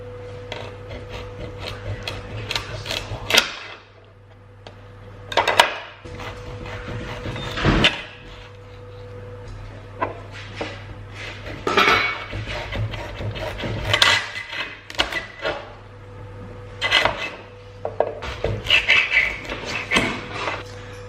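A knife slices through squash on a chopping board in irregular bursts of cutting and scraping, with quieter pauses between strokes and a faint low hum behind.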